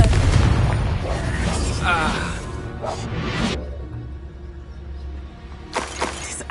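A Confringo blast spell bursts loudly in Hogwarts Legacy, with a heavy explosive boom and crackle up front, then quieter whooshing effects and short bursts, and a voice speaking in between.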